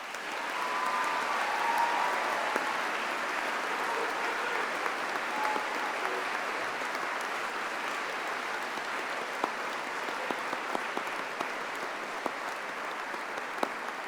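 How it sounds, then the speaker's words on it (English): A graduation ceremony audience applauds university staff, a broad sustained clapping that fills the hall evenly from a distance for many seconds with no voices over it. "join me in thanking them with a huge round of applause"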